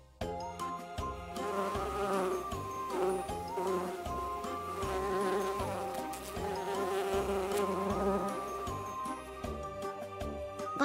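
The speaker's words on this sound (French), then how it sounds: "Abeille." A bee buzzes steadily and loudly throughout, a continuous insect drone layered over bright, tinkling background music with no speech.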